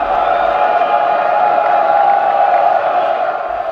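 A crowd in the Old City of Jerusalem on the Jewish New Year shouting together as shofar horn blasts ring out, a loud sustained tonal blare over massed voices, close and continuous.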